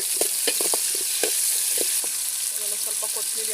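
Chopped onion with a teaspoon of ginger-garlic paste roasts in a pan for a village-style egg and beans dish, giving a steady close sizzle and frying hiss with a few soft stirring clicks, no talking.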